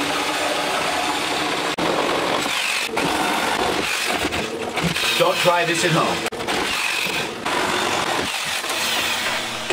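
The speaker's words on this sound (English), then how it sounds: "We have to use a saw to get the old one out." A power saw grinds and whines in loud, uneven bursts, cutting out an old aquarium light fixture while a person talks over the noise.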